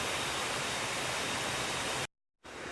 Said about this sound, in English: The higher I go, the louder this noise gets. Looks like it just follows the waterfall up higher.